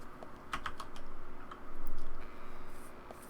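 Computer keyboard typing inside the video game Deadly Premonition, a short burst of clicky keystrokes at the start followed by fainter scattered taps over a steady low room hum.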